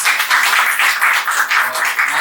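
Audience applause at a poetry open mic in Delhi, a full, continuous burst of many people clapping, loud and near, with rhythmic pulses running through the whole stretch.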